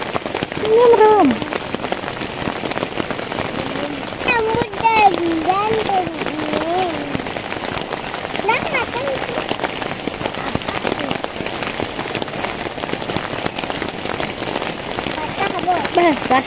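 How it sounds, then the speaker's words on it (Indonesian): Rain falls steadily at a mountain campsite at Alahan Panjang, a continuous close patter of drops on surfaces, with adults and someone talking intermittently over it. "hari hujan nak?"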